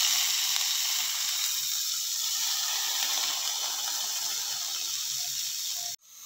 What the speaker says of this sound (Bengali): এবার এই কুচিয়ে নেওয়া বাঁধাকপিগুলো দিয়ে দিচ্ছি